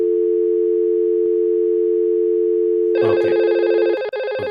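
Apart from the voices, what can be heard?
phone dial tone then ringing while calling another phone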